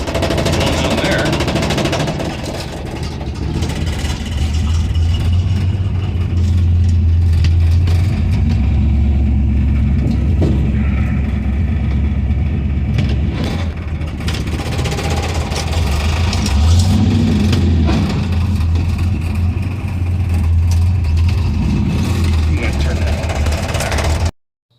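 A 1949 Studebaker gasser idles steadily as it is backed in, its low engine rumble holding on throughout with a slightly uneven, lopey pulse.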